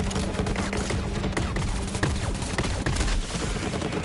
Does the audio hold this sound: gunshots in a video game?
yes